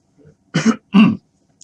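Two sharp, close coughs in quick succession from a man, preceded by a faint throat noise, loud and otherwise isolated in a quiet room.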